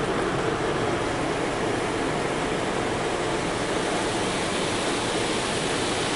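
Car wash spray from a Mark VII SoftWash XT at a Shell/Circle K in Los Lunas, New Mexico, doing a slow rinse pass: a steady, loud broadband hiss of water jets that holds evenly throughout, with no talk.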